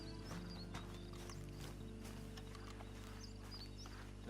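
Horse hooves in a video game clip-clop at a steady walking pace over a constant low hum, with faint bird chirps in the background.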